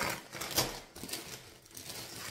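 A bag of grapes handled during a grocery unboxing gives close, crinkly plastic rustles and soft crunches in uneven bursts over a quiet background, with no talking.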